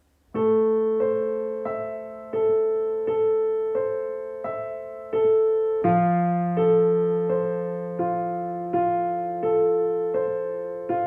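Piano chords struck one after another in a steady rhythm, each ringing and blending into the next with sustained, pedaled resonance.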